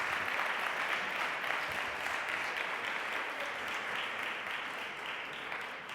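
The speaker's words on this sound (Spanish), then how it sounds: "Un aplauso para él." Audience applause at a youth arts gala as a guest comes on stage: a continuous, fairly distant patter of many hands that slowly eases off toward the end.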